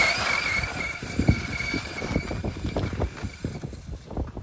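Brushless Traxxas Summit RC truck on studded tires racing across ice at full throttle, a steady whining motor with rattling, crunching bursts as it makes a close flyby, loud throughout with no talking.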